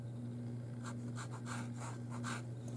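A pen nib scratches across paper painted with watercolor, giving faint, intermittent strokes over a steady low electrical hum.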